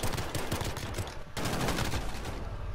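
Rapid bursts of gunfire from a video game run loud and continuous, with a brief pause before more shooting resumes.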